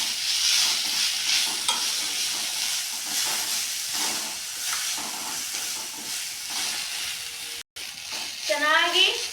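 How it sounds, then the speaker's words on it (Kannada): Grated potato stir-fries in a hot pan for vegetable rice, with continuous sizzling hiss and scraping stirring strokes, while a voice talks faintly underneath. "ಅದನ್ನು ಕೂಡ ಚೆನ್ನಾಗಿ ಫ್ರೈ ಮಾಡಬೇಕು"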